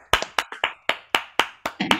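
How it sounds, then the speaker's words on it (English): A single person claps into a microphone on an online town hall call, about ten sharp, close hand claps in a quick, slightly uneven rhythm. "we should all unmute and clap for all of them"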